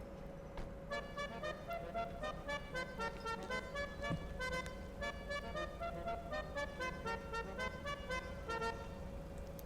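Car horn honking in a rapid rhythmic string of short toots that play a tune over a steady engine hum, fairly quiet and continuous, with no talking.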